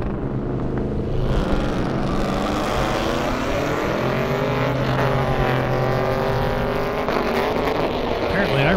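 A Cadillac CTS-V and a Camaro race down an airstrip, their engines roaring loudly and continuously, one pitch climbing through the gears as the cars pass close by.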